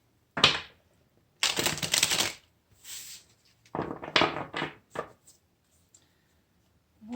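Tarot cards are shuffled in several quick riffling bursts, crisp and close, separated by short pauses.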